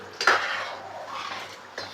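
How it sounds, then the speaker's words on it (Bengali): A ladle stirs vegetarian ghugni in a metal pot, making a soft scraping clink near the start and a continuous low rasp after it, with no speech. "এবার আমি হাতা দিয়ে একটু নাড়িয়ে নেব"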